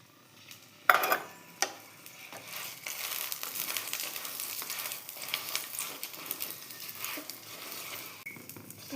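Roti frying in a little oil on a hot tawa: a sharp clatter as it goes down, then soft continuous sizzling and crackling with light scraping and patter, fairly quiet and close.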